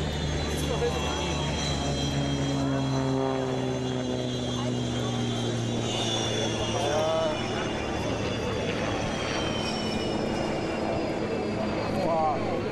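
Russian Knights aerobatic jets at an air show, a loud continuous roar with shifting engine tones as aircraft pass, with excited spectators talking throughout.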